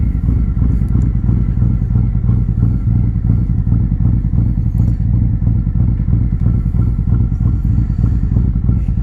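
Loud, close Harley-Davidson Street Glide CVO engine rumbles steadily with rhythmic low-frequency pulsing and a slightly rough, clattery edge, holding a heavy throaty note throughout.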